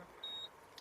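A single short electronic parking sensor beep, high and clear, over a quiet 2019 Daihatsu Xenia 1.3 interior.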